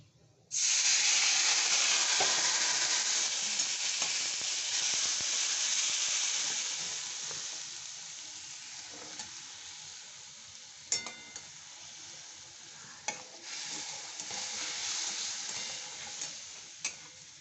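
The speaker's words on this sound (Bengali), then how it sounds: "আর এখন আমি একটু জল দিয়ে এটা একটু কষবো, একটু জল দিয়ে কষে নেব।" Chicken with cumin and coriander powder sizzles loudly in a pan as a little water is added for kosha. A hissing burst of steam gradually settles into steady frying, with occasional scrapes and clinks from stirring.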